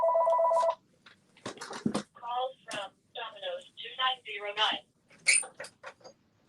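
A telephone rings in a short electronic trill at the start, clear and fairly near, and then stops as people talk.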